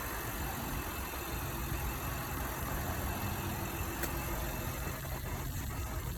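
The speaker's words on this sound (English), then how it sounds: "I'm gonna try and remote start it." A 2016 Honda Pilot engine idles after a remote start, a steady low hum heard faintly from outside the vehicle with no talk.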